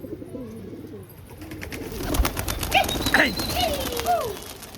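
Pigeons coo and flutter nearby, with wings flapping in short bursts against a steady outdoor background and some voices faintly underneath.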